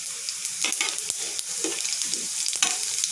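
Whole cumin seeds and dried red chillies frying in hot oil, a close, continuous crackling sizzle with a few stirring scrapes and taps, no talking.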